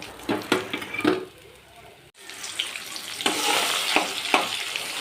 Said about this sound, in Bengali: বাকি মাছগুলো আমি একই রকমভাবে ভেজে নেব